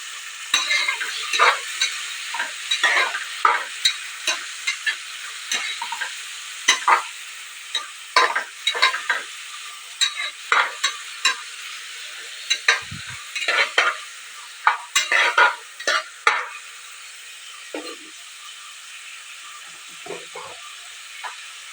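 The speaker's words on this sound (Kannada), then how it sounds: "ಚೆನ್ನಾಗಿ ಥರ ಈರುಳ್ಳಿ ಟ್ರಾನ್ಸ್ಪರೆಂಟ್ ಆಗೋವರೆಗೂ ನಾನು ಫ್ರೈ ಮಾಡ್ಕೊಳ್ತೀನಿ" Onions fry in a pan, crackling and sizzling in scattered bursts with repeated scraping and stirring strokes over a quiet, hissing background, no voices.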